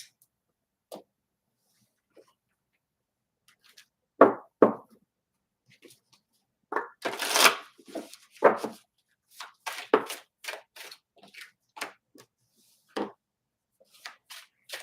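Lenormand cards being shuffled and handled in a quiet room, giving scattered soft riffles, taps and slaps in irregular bursts that cluster most densely in the second half, with no one talking.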